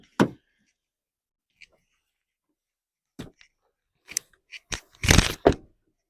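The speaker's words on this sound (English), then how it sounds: "you can drop the rear by pulling these levers here in the trunk" Rear seatbacks of a 2025 Hyundai Sonata N-Line folding down in a 60-40 split, giving a few sharp thumps and clunks with scattered rustles and latch clicks between quiet gaps, ending in a louder cluster of impacts.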